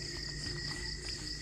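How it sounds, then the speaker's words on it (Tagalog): Crickets chirping at night in a rural Philippine vegetable garden, a steady continuous high trill with faint background noise and no talking. "Narinig na naman natin ang mga kuliglig eh."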